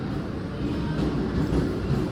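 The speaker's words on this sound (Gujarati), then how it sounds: "એ આપણી જો લોકલ ટ્રેન આવી છે" A local train in Mumbai pulls in with a loud, steady rumble and rattle of wheels and carriages that fills the whole moment without a break.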